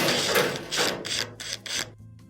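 A screwdriver turns out Phillips screws from the frame bracket of an LG dryer, giving a series of short close mechanical ratcheting scrapes with no talk, ending abruptly.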